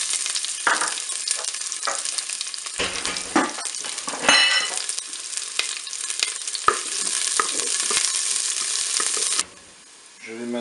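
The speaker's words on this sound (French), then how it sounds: "je vais pouvoir faire revenir mes oignons" Onions sautéing in a preheated Cookeo electric pot, a dense continuous sizzle broken by frequent scrapes and clicks of a spoon stirring, close and fairly loud, with a brief dip into quiet near the end.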